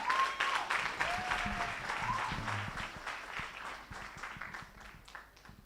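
A dinner audience at an annual youth gathering gives a steady round of applause, moderately distant and soft, with a few voices calling out over the clapping as it tapers.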